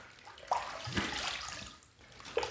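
A brush is rinsed under running water, giving a soft, close splashing and gurgling with a couple of brief louder splashes over a few seconds.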